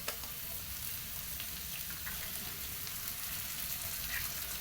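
Eggs sizzle in a hot pan while frying for anda bhurji, a soft, steady crackle and hiss with small pops running evenly throughout at low volume.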